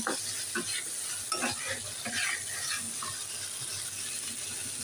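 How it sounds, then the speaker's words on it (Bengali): Spices with turmeric, roasted cumin powder and salt frying in a pan, heard as a steady close sizzle with repeated scraping stirs and clinks throughout. "এবার এগুলোকে ভালো করে ভেজে নেব"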